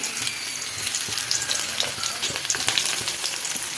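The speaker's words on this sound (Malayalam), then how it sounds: "ചുമന്നുള്ളി ഇട്ട് കൊടുക്കാം." Shallots fry in oil with a steady, bright sizzle, crackling unevenly as they are stirred close by.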